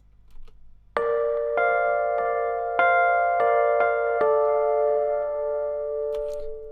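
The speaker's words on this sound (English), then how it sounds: "You'll notice what I mean by this piano being a little bit softer." Soft piano notes struck one after another at an unhurried pace, each ringing on and overlapping into a gentle sustained chord, with no talking.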